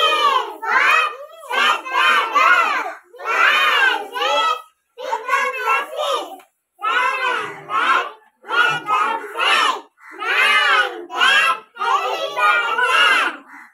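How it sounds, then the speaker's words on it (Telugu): Young anganwadi preschool children sing the One Two Buckle My Shoe action rhyme loudly together, chanting in rhythmic bursts separated by brief pauses, close and energetic with no other sound between phrases. "ఇప్పుడు మనం 1 2 బకల్ మై షూస్ రైమ్ పాడుకుందాం"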